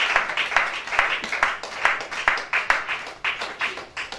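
A church congregation claps together in a steady rhythmic beat, about two claps per second, fairly close and moderately loud, with faint voices underneath.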